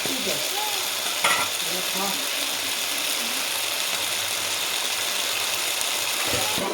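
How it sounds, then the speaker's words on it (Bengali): Pieces of taro stirred and frying in a pan over a raised gas flame, with a constant close sizzle broken by a few sharp knocks of the spoon against the pan. "এখন আমি এটা ভালোভাবে নাড়াচাড়া করে নেব"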